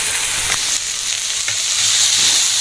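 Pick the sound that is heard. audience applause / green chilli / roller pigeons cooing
green chilli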